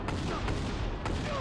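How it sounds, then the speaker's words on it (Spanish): Shotgun blasts in the video game Just Cause 2, set on a snowy mountain: three sharp broadband reports about half a second apart over a steady loud roar of game noise. "Voy a sacar la escopeta. Esta sí que es el arma más potente del juego."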